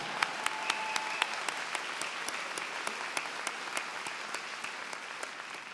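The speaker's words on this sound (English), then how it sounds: "So, okay, let's applaud." An audience at a university commencement ceremony applauds graduates with sparse, faint, distant clapping, a few sharp individual claps standing out over a soft, even wash of hands.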